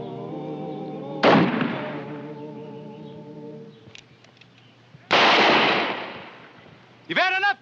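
Gunfire in a western TV episode: two loud, close shots, each a sharp crack followed by a long decaying rumble, set against a sustained tonal musical backdrop, with a voice briefly heard near the end.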